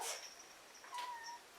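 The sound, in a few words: cat meowing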